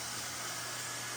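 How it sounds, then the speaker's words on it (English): A vacuum cleaner runs steadily over a tiled bathroom or kitchen floor after grout cleaning. It gives a continuous, close, broadband whooshing roar with no breaks. "We give it a final vacuum,"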